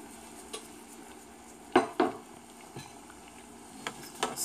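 A spoon stirs mashed green plantains for mangu in a pot, making a few soft scrapes and light knocks against the pot over a quiet background hiss, with no talking.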